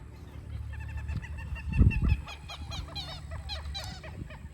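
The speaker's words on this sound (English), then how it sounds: "those birds that you hear are called coots" Coots calling outdoors along a hiking trail, a run of repeated clucking, chattering bird calls at moderate distance, with a brief louder low rustle or thump partway through.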